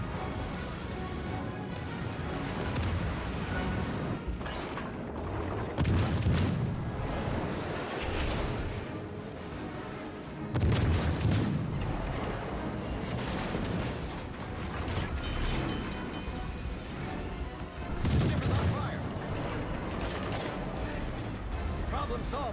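Naval guns of the premium cruiser Boise fire in World of Warships: Legends, several heavy booming salvos spaced seconds apart over a steady mechanical rumble, with someone talking at times.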